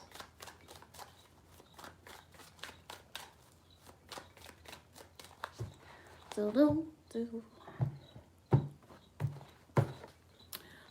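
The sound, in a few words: shuffling tarot cards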